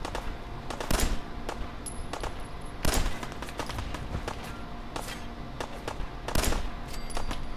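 Gunshots in Fallout 4 combat, a handful of loud sharp reports spaced a second or two apart over steady background noise and running movement, with no talk during the shots.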